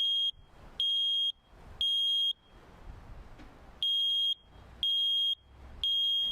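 A loud, high-pitched electronic alarm beeps in a steady pattern, three long tones, a pause, then three more, with quiet room noise in the gaps.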